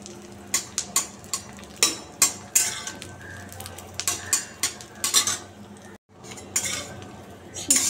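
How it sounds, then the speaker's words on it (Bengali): Pomfret fish fry in a pan while a metal spatula scrapes and clinks against it in repeated close knocks, over a faint sizzle. No voices. "এই ভেজে নিলাম, দেখো ভালো করে একটু ভেজে নেবো, গরম গরম ভেজে নিলে ভালো লাগবে খেতে আরও।"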